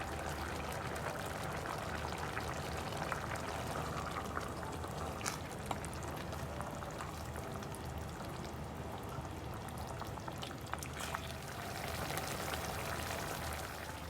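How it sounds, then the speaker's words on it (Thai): A pot of clear Thai soup bubbles at a rolling boil, a steady close burbling and popping with a few brief louder splashes and no talking. "ก็เดือดปุบปุบแล้วค่ะ"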